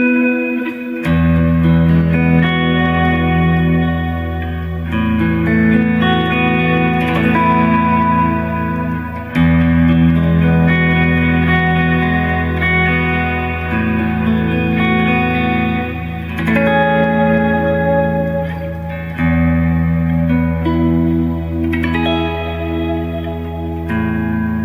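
Guitar played through an Eventide pedal set to a mod echo reverb preset for soft playing, sustained chords and single notes blooming into a lush, shimmering wash of modulated echoes and long reverb tails, loud and continuous.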